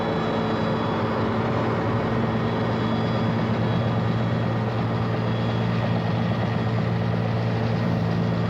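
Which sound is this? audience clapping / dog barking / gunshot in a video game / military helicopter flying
military helicopter flying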